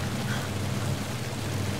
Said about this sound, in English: At least I'm safe from the rain,